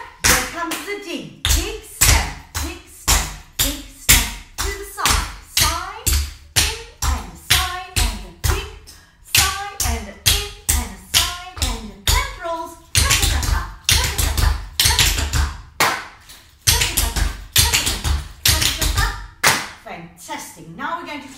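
Tap dancing steps, including a dig, strike a hard floor in a steady rhythmic drill, crisp close taps and heel hits repeating in even phrases, with a voice counting over them.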